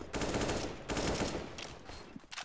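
Bursts of AK rifle fire in Counter-Strike: Global Offensive, several rapid volleys of loud close shots with short gaps between them, and no talk over them.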